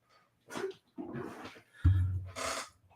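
A dog close by gives a few short barks and yips with whimpering breaths between them, in irregular bursts over a quiet room.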